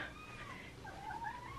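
A house cat lets out a short, faint meow with a rising and falling wail, heard alone at a distance for under two seconds.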